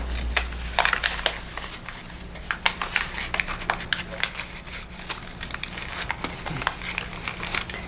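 Paper for an origami heart box is pressed and creased along fold lines, giving close crinkly crackles and sharp rustling bursts throughout, with soft speech mixed in.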